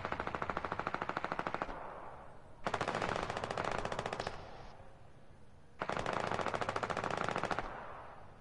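Rapid automatic bursts from a hunting rifle and shotgun in the video game Fortnite come in three long, loud, evenly pulsed volleys separated by short pauses, with no talk.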